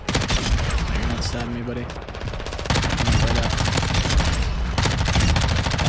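An MP5 (Lachmann Sub) fires in rapid automatic bursts in the video game Modern Warfare 2. The loud, dense rattle continues almost without pause, with a player talking over it.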